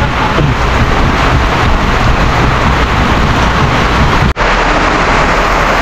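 Torrential rain pours down continuously in a dense, loud roar near barracks as water floods in, the hiss steady and unbroken apart from one sharp momentary dropout.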